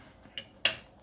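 A metal spoon clinks twice against a bowl while scooping miso mixed with cooking sake. The first tap is light, the second is a sharper, louder clink, both close and isolated.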